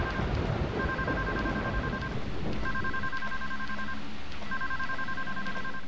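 A telephone in the Deadly Premonition video game rings in three evenly spaced bursts, each a steady electronic trill lasting about a second and a half, over constant rushing background noise.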